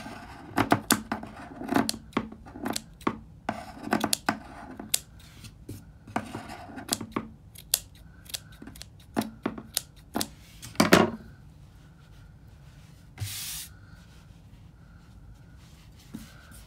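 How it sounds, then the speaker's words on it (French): Scissors snip protruding yarn threads to trim a shawl fringe, giving a run of sharp, close, irregular cuts with short pauses and faint rustling between them. "je vais pouvoir couper les fils qui dépassent pour pouvoir avoir une frange bien"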